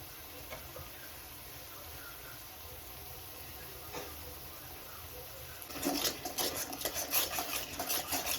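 Spice masala with salt is fried and stirred in a pan for a fish and potato curry, starting as a quiet low sizzle and then turning into busier clattering, scraping stirs from about the six-second mark, with no talk.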